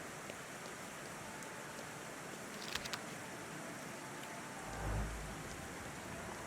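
Steady rain in the video game The Thaumaturge, set in Warsaw, hisses evenly throughout, with a brief crackle near the middle and a low rumble of distant thunder toward the end.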